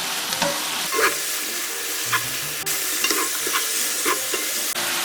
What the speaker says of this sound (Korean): 준비한 멸치를 넣어주세요. 조림을 해주세요.